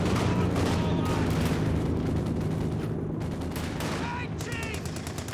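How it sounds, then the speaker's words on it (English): An anti-infantry strafing run opens fire in the Company of Heroes 2 strategy game. Rapid, dense machine-gun bursts rattle over a constant rumble of battle, followed by a few sharp, ringing impacts. "Pulling in the anti-infantry strafe"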